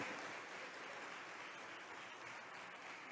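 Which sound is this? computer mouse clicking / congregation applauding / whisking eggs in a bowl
congregation applauding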